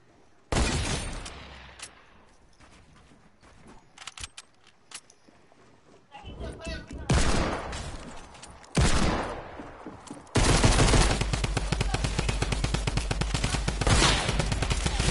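Gunfire crackles through a video game arena match: scattered single shots first, then heavier bursts and a sustained stretch of rapid automatic fire, with a voice talking over it.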